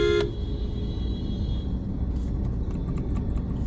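A short car horn toot from a Suzuki Jimny automatic sounds at the very start, then a low engine rumble continues with faint distant beeps, stuck in waterlogged traffic.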